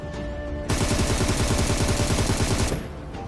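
A long, loud burst of rapid automatic gunfire rattles in the mobile battle royale game PUBG Mobile while an enemy is knocked out, quieter ambience before and after.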